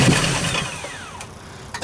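A Nissan Pulsar GTI-R engine starting attempt, with a loud cranking, sputtering burst that carries a falling whine and fades into rough rumbling, followed by a brief knock near the end.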